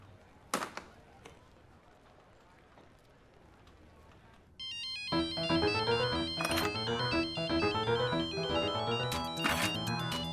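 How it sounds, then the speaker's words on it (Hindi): After a few soft knocks, a phone ringtone starts playing, a bright melodic electronic tune that continues loudly and steadily. "राज का फोन।"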